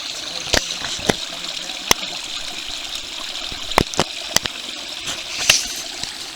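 Water trickling through a creek bed in a rainy forest, a soft continuous wash broken by scattered sharp splashes or drips, close by, with no talk.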